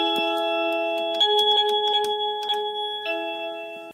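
Xiaomi Zero AI smart doorbell playing an electronic chime: sustained tonal notes that change pitch twice over about four seconds, clear and close with a few light clicks, no talking.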